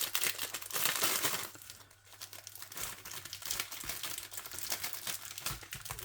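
Crinkling plastic sleeve of Asda Just Essentials cereal being torn and pried open, continuous crackling and rustling close up with a brief pause midway.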